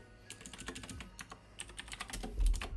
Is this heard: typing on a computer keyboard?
yes